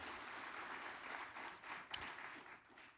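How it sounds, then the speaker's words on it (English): An audience gives a round of applause at an event, dense clapping at modest volume that swells and dips slightly over a few seconds, with no voice on top. "I think everybody owes a round of applause."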